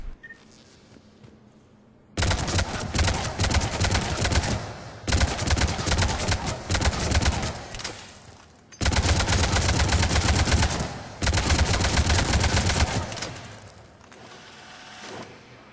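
Avenger assault rifle from Mass Effect 3 firing at targets, long loud full-auto streams in four separate runs with short pauses between, the gunfire sharp and close.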